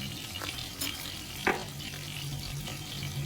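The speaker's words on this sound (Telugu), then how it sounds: "కొంచెం కూరకి సరిపడినంత ఉప్పు వేసి ఆనియన్స్ని కొంచెం బాగా వేయించుకోవాలి ఫ్రెండ్స్" Onions frying with salt and a little turmeric in a pan for goat-tripe curry: a steady, soft sizzle with a few faint clinks of a spoon.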